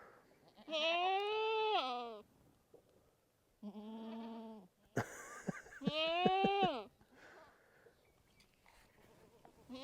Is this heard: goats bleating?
yes